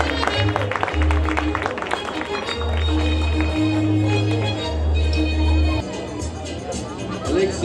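A crowd claps at a neighborhood queen coronation festivity, broad applause over steady background music with a low bass pulse and crowd chatter, the clapping dense at first and then easing.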